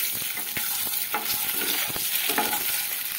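Eggs frying in hot oil with Kashmiri red chilli powder and turmeric, a steady close sizzle with soft clinks and scrapes of stirring throughout, no voices.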